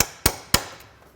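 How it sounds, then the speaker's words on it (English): A metal punch struck with a hammer to drive nails out of reclaimed wood boards: two or three sharp, loud metallic clangs in quick succession, each ringing briefly, close by with no talking. "I'm just going to take a little punch and punch those"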